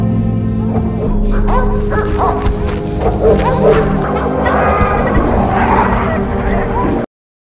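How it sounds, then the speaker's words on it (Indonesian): Dog barks ring out repeatedly amid a busy, noisy scene with voices and other activity, the barking fairly close and mixed into the din. "terdengar suara anjing"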